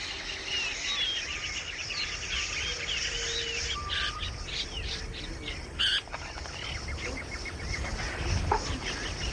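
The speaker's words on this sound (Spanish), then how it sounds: "los loros que vuelan siempre en parejas y animan la selva con sus agudos sonidos" Parrots, including a mealy amazon, and other exotic birds in Ecuador's Amazon jungle give scattered high chirps and calls over a steady buzz of insects, some near, some distant.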